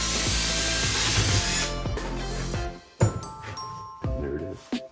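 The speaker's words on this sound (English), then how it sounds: "Now I'm going to turn it around and drill the other hole." A power drill bores a hole through a metal shovel part, a loud whirring grind that cuts off partway, followed by a few clattering knocks and short bursts of the drill starting again.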